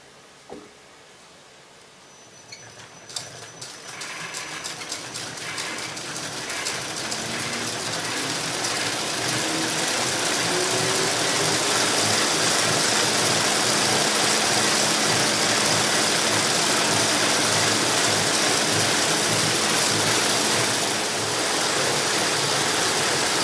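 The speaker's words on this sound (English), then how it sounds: "you saw the pin drafter, and it's actually like two machines in one." A pin drafter machine in a wool fiber mill starts up and builds into a loud, steady mechanical roar with a dense rattling texture, running continuously close by without any talking.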